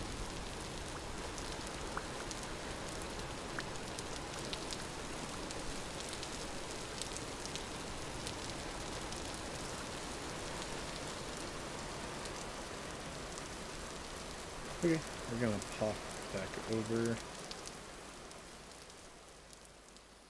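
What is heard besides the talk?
rain falling in video game Vintage Story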